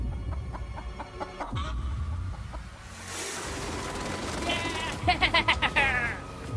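A freshly caught chicken clucks in a short burst of rapid, close calls near the end, over a background of talking voices and outdoor noise.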